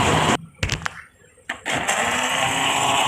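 A blender whirs loudly while mixing mango ice cream, stops for about a second amid a few clunks and knocks, then roars back up and runs continuously.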